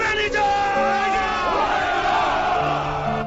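A crowd of soldiers bellows and cheers together during a toast, loud overlapping shouted voices rising and falling in a continuous roar.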